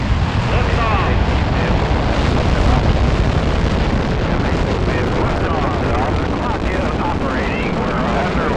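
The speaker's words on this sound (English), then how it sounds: "3, 2, There was 1, the ignition of the burners. 0, ignition, liftoff." Rocket liftoff carrying an astronaut into orbit, a continuous loud roaring rumble with broadband noise throughout, overlaid by radio voices of the countdown and crew.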